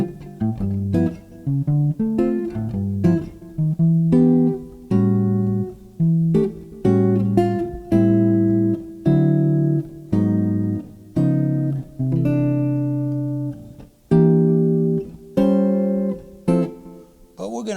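Jazz comping chords for a standard, played with plain unsubstituted voicings, ring out as short, rhythmic stabs and held chords in a steady swinging pulse, close and clear with no other sounds.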